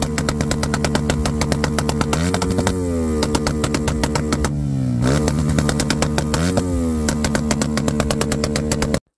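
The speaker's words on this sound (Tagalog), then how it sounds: "di nga pala pwede kang sumayaw sa tunog na kanilang tambutso" Loud motorcycle exhaust roaring and popping continuously, with repeated revs rising and falling in pitch, close by and steady throughout, at a motorcycle festival.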